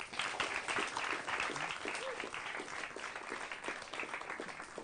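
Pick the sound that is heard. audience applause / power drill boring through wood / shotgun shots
audience applause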